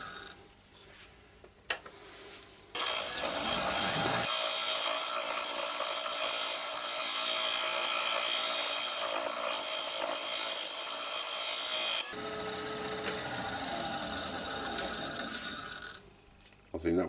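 An old wooden bowl spins on a wood lathe at about 500 rpm while being re-turned to round, a loud steady whirring, scraping cut running continuously for several seconds, with quieter tool contact before and after.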